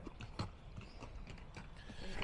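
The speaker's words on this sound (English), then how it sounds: "That horse is pretty as day." A horse walks along a trail, its hooves clopping faintly in an uneven rhythm beneath low background noise and a few soft voices.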